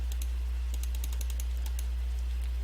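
A computer keyboard is typed on in a quick burst of light clicks, ending in a key press, close and quiet over a steady low electrical hum.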